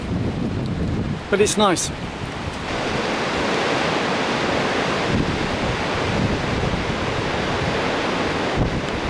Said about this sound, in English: the tide has dropped and the wind's still quite strong